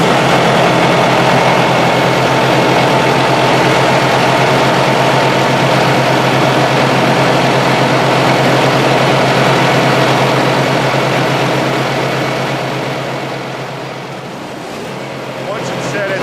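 A refrigerated trailer reefer unit runs through its self-test with a steady, loud low engine drone and a constant mechanical hum that eases slightly near the end, with no talking over it.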